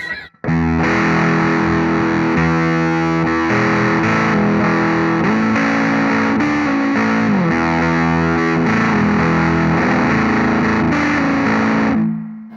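A TEFI Vintage Labs Gegé hand-built germanium fuzz pedal in normal mode with the toner at maximum roars through a sustained, thick distorted guitar passage lasting over ten seconds, loud and saturated, alone.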